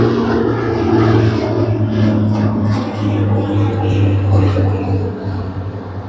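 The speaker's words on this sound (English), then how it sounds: "we do have a takeoff out here." Propeller airliner rumbling through its takeoff roll at Sydney Airport, a steady loud low drone with a strong engine hum that holds for the whole stretch, with voices faintly beneath.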